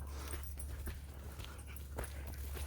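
Dog whimpering on a muddy hillside walk, faint thin whines and yips scattered over a steady low rumble of wind or movement.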